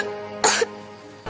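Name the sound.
child coughing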